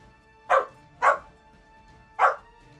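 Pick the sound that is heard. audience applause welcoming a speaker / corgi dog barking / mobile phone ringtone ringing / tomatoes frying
corgi dog barking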